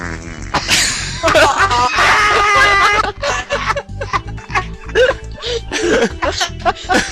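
Mouth imitation of a wet, juicy fart, a voice spluttering and blowing in bursts amid laughter and chatter, close and loud, with talk around it.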